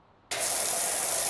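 A pressure washer starts spraying in PowerWash Simulator, a sudden switch from quiet to a loud, steady hiss of water that holds to the end.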